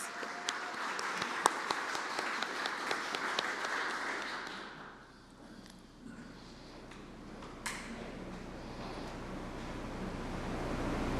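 An audience applauds at a White House Vesak celebration, dense clapping that fills the room, then fades and dies down midway before a softer swell of clapping and room noise returns.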